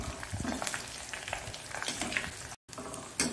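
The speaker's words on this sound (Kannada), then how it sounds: "ಸರಿ ಒಳ್ಳೆ ಫ್ರೈ ಆಗಬೇಕು, ಇದು ಕ್ರಿಸ್ಪಿ ಆಗಬೇಕು" Okra frying in hot oil until crispy gives a continuous close sizzle and crackle, with occasional stirring scrapes and a brief dropout near the end.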